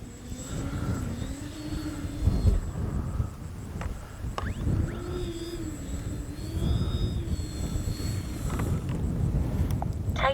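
OV-10 Bronco RC model warbird airplane engine droning steadily through a takeoff roll, a continuous buzzing whine rising and dipping in pitch over the full stretch, heard alone without talk.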